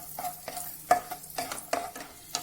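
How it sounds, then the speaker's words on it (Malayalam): Cashews and raisins fry in ghee in a pan for rava laddu, giving a steady soft sizzle broken by several sharp scrapes and clinks of a spoon stirring, close up and with no talk. "ഈ സമയത്ത് മുന്തിരിയും കൂടി ഇട്ട് കൊടുക്കാം"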